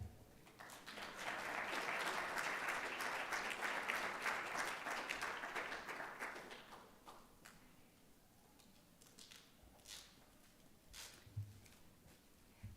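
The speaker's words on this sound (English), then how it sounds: "Please join me in one more round of applause while we celebrate this excellent recognition this evening" An audience at a school board meeting bursts into applause, a dense wash of clapping for several seconds that thins out into scattered, fading claps, moderately distant in a hall.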